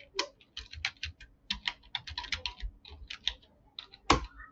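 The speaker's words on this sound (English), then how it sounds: "So I have to type it." Close, quick typing on a computer keyboard, with irregular bursts of crisp key clicks and a louder keystroke near the end, in a quiet room with no talking.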